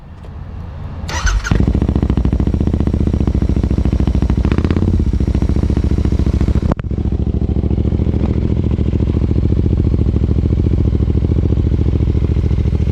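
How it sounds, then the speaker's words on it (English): A 2021 Royal Enfield Continental GT 650 with a 648cc air- and oil-cooled parallel twin and aftermarket exhaust starts up, then settles into a loud, steady, throbbing idle heard close and alone, with a brief blip midway. "Let's hear what the 648cc air and oil cooled parallel twin sounds like with aftermarket pipes."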